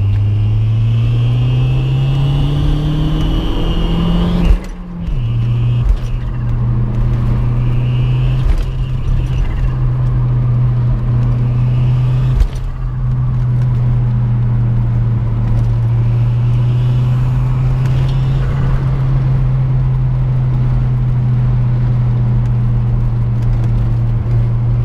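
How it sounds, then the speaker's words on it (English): An Audi B5 with a turbo and an upgraded front-mount intercooler drones loudly and close by, its engine holding a steady, strong hum with only brief dips and no voices. "I love the way the turbo just kicks in"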